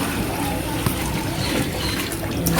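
Water is poured into a pot of masala-cooked mutton while biryani is cooked, a steady close splashing and trickling that runs continuously under brief background voices.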